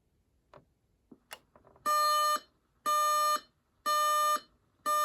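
A few faint clicks and taps, then a loud electronic buzzer sounds in four evenly spaced bursts, each about half a second long.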